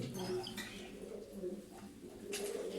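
Tumbler pigeons coo softly while feeding their young, low faint murmuring calls close by, with a voice talking quietly over them.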